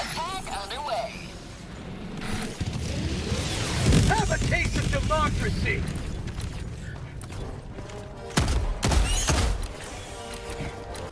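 Artillery barrage in Helldivers 2, a dense rumbling wall of booms and mechanical clatter that swells and keeps pounding with a couple of heavy hits near the end, while players talk over it.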